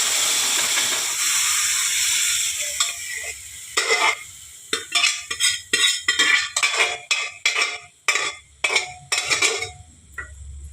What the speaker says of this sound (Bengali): এইভাবে হাতা দিয়ে একটু ঘাটিয়ে দেবেন